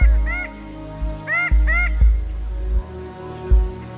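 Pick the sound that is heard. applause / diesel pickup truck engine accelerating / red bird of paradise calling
red bird of paradise calling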